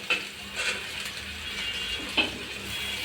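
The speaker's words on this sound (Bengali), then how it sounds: "হালকা করে একটু সজনেটা আর আলুটা ভেজে নেব" Drumsticks and potatoes fry lightly in a pan, a close steady sizzle broken by a couple of sharp utensil clinks against the metal, with no one talking.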